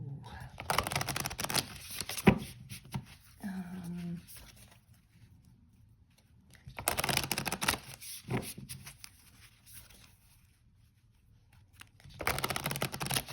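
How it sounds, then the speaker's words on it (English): A deck of oracle cards is shuffled by hand in bursts of crisp riffling and flicking that alternate with quieter pauses, and a person talks in between the bursts. "Trying to get it a really good shuffle here while I think about this."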